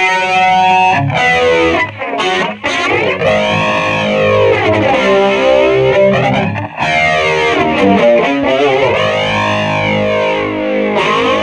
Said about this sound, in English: Let's turn the flanger on